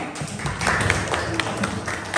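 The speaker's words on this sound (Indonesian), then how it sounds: "Tepuk tangan dong" A classroom of students claps for the quiz winners, a steady, close patter of many hands that lasts throughout with a few scattered voices mixed in.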